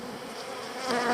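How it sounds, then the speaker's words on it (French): Honey bees at an opened hive hum in a dense, close buzzing drone that swells slightly louder toward the end of the brief moment. "Là, ils sont un peu désorganisés les abeilles."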